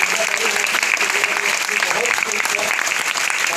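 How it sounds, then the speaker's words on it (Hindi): An audience at a business training event claps in dense, sustained applause that fills the room evenly throughout, with voices mixed into the noise. "इन लोगों के लिए जोरदार ताली होना चाहिए।"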